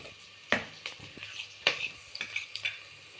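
Quiet sizzling of food in a pan, with a few sharp scraping stirs and utensil clinks at irregular intervals.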